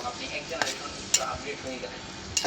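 Ginger, garlic and tomato fry in a pan while being stirred, a soft steady sizzle broken by a few sharp clinks of the spoon against the pan, close and moderately quiet, with no talking.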